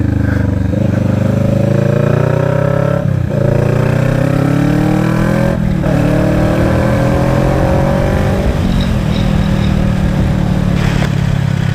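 A Kawasaki Vulcan S 650 with a Two Brothers full-system exhaust revs up through several gear changes, its loud, throaty exhaust note rising and falling close by.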